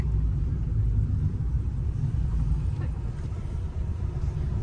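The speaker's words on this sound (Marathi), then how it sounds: "आता अंडरग्राउंडला आपली गाडी चाललेली." A car rolls down a ramp into the underground parking of Prozone Mall, producing a continuous low engine and road rumble heard from inside the vehicle, steady and unbroken.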